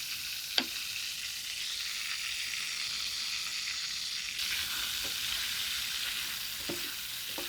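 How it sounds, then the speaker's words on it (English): Leeks fry in a hot pan with a steady, close sizzle, broken by a few sharp pops and light stirring clatters. "I'm gonna throw in the leeks now"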